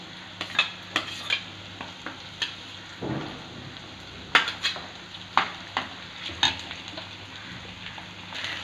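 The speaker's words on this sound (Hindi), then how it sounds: "हम अभी इसको चलाएंगे थोड़ी देर जब तक कि ये लाइट ब्राउन कलर में आ जाए" Green chili and garlic stirred and fried in a pan for French beans and potato sabzi, with a steady sizzle under repeated scraping strokes of a spatula against the pan, fairly close.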